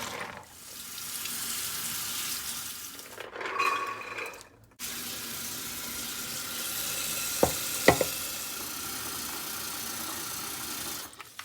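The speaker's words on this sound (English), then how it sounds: "So I'm going to strain them and give them a good rinse." Soaked, swollen chickpeas strained and rinsed under a running kitchen tap: a steady hiss of water pouring into a strainer, a brief pause with rattling, then flowing water again with a couple of clinks.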